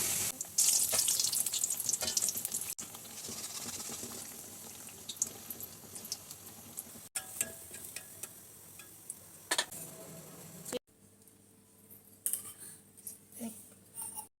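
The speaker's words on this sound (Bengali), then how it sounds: "এইভাবে আমি সব মালপোয়াগুলো ভেজে নিব" Semolina malpua pancakes deep-frying in hot oil, a steady close sizzle and crackle with a few clinks and scrapes, louder at the start then settling, and no talking.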